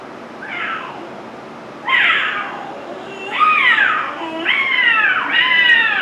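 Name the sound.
cat howling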